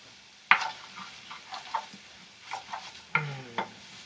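Meatballs cooking in a pan on an electric stovetop give off a low, steady sizzle, broken by several sharp clinks and scrapes of stirring at irregular intervals, close by and with no talking.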